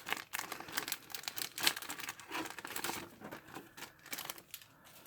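A plastic bag holding the instruction sheet for a 1/8 Kotobukiya ArtFX Mikasa Ackerman figure is crinkled and torn open close by, a run of irregular, crackly rustles and snaps with no talking.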